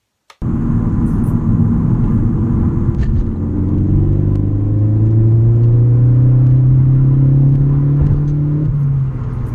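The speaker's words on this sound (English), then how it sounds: "The next one is me just merging from one highway to another where you're going from a slower speed to a higher speed." A Ford Focus ST fitted with a Ford Performance exhaust pulls hard up to speed merging between highways, a deep, steady exhaust drone climbing smoothly in pitch for several seconds before easing off, heard from inside the car.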